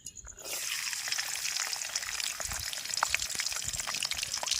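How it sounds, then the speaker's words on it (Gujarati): Garlic cloves drop into hot oil, setting off a sudden, steady frying hiss with crackling pops that holds at an even level, close and fairly quiet. "તેલ આવી ગયું છે તો હવે એમાં લસણની કળી નાખી દઈએ"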